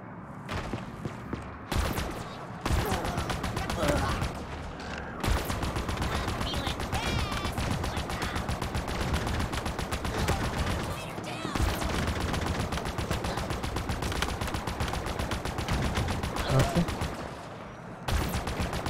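Rapid gunfire in Halo Infinite's campaign rattles almost nonstop in dense automatic bursts with heavy impacts, loud and close throughout, while a voice talks over parts of it.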